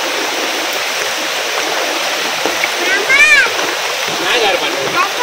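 Broadband rushing water from a rain-swollen stream or waterfall runs steadily throughout, with a brief splash-like burst near the middle and voices talking over it.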